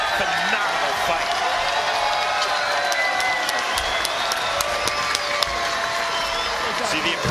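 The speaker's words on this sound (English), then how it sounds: "See the appreciation from this Biloxi, Mississippi crowd." A Biloxi, Mississippi crowd at a bare-knuckle fight event roars with steady applause and cheering after a fight ends, a dense, continuous wash of noise with a commentator's voice running over it.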